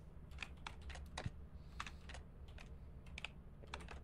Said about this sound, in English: You can just type it in, buy shovel.